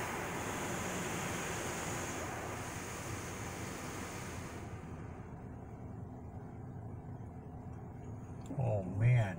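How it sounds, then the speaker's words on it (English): A spot-free rinse in an automatic car wash sprays water steadily in a dense, rushing hiss that thins out about halfway through, and a voice is briefly heard near the end. "This is a spot free rinse."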